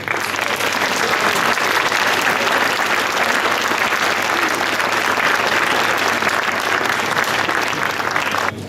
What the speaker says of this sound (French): je pense sincèrement qu'on peut les applaudir